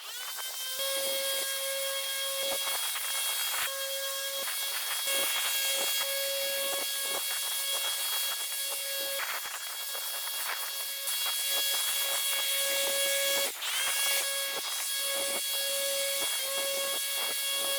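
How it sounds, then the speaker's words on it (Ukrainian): A petrol backpack leaf blower, GTM GB-753R, runs with a steady engine roar and high whine throughout, loud and close, with the pitch dipping briefly now and then. "повторимо цей тест, але вже з використанням ранцевої повітродувки"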